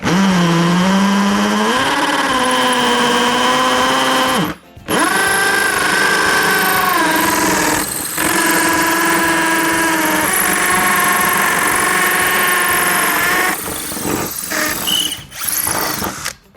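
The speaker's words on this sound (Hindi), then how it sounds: "इस कंक्रीट में ड्रिल करना है, इसलिए मैं अब मोड को ड्रिलिंग मोड से हैमर मोड में डाल दूंगा।" A Bosch GSB 18V cordless impact drill in hammer mode drives a 6 mm masonry bit into a concrete block, giving a loud, steady whining buzz with a few brief pauses and restarts near the end.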